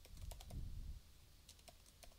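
Keys clatter on a computer keyboard while text is typed into a Blogger website's code editor, a close run of quick irregular taps with a brief heavier burst, then a few scattered keystrokes after a pause.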